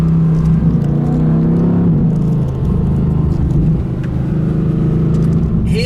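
A Mercedes-AMG GT R drives along steadily with a loud, close engine drone and road rumble, rising and easing slightly as it goes, with no talk.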